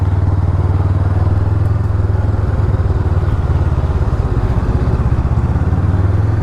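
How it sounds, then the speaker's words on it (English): A Honda CMX500 Rebel motorcycle being ridden gives a loud, steady low engine drone with a fast pulsing beat, close and continuous, with wind buffeting and no talk over it. "It's just a go out, have a ball, and ride your motorcycle."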